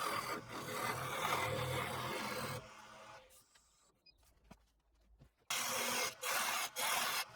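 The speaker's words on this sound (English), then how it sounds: "I use a spindle roughing gouge to make the square piece of wood round" Spindle roughing gouge cutting a square wooden blank round on a lathe, a harsh rasping scrape that runs continuously, breaks off into near quiet with a few light taps, then resumes in choppy bursts.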